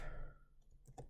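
A few quick keystrokes on a computer keyboard, faint soft clicks in a short burst near the end after a moment of quiet.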